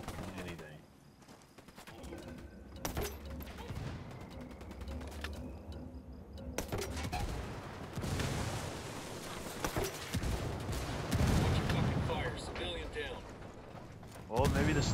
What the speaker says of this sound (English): There's only all kinds of gunfire.